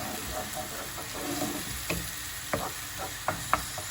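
Onions sizzling and frying in a pan for a beef orman kebabı, with a steady hiss and a few sharp ticks and pops as they are stirred.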